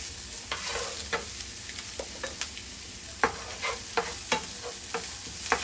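Halved jalapeno frying in a pan for turkey tacos, a soft steady sizzle broken by repeated sharp scrapes and taps of stirring, close and fairly quiet.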